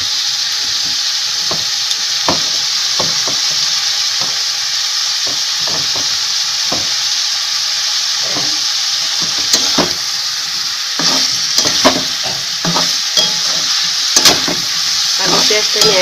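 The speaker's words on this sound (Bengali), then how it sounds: "একসাথেই আলু পেঁয়াজ ভেজে নিচ্ছি।" Potatoes and onions fry together in a pan with a loud, continuous sizzle, broken by frequent scraping and clacking taps as a spatula turns them, close up and steady.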